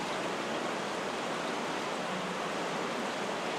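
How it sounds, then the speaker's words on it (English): A limestone waterfall inside Phou Pha Souk cave, heard as a steady, dense rush of falling water that fills the space evenly and continuously with no pauses or voices. "A limestone waterfall in the middle of the cave."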